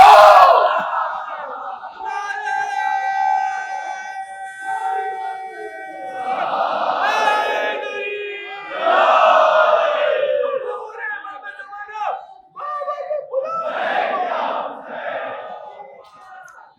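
A crowd at a Shia majlis in an imambargah chants religious slogans in loud, rhythmic bursts of many voices, rising and falling in waves throughout.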